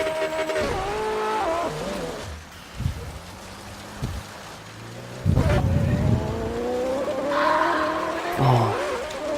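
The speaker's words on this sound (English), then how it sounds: "This car's got really weird gears." A car's engine revs and shifts through gears in Forza Horizon 3, the pitch climbing and dropping with rising surges and tire noise, loud throughout and mixed with rain.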